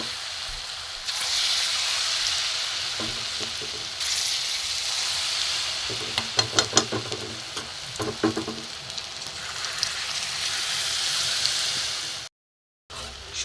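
Motichur laddu batter fries in hot oil with a loud, steady sizzle and hiss. Clusters of light scraping and clinking from stirring come through midway, and there is a short silent gap near the end.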